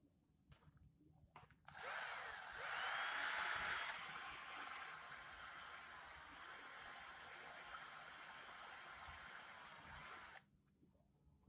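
A small power drill bores out the hole in the handle of a flexible shaft cable for a mini grinder, a steady high whine that runs for about nine seconds and rises in pitch and loudness early on.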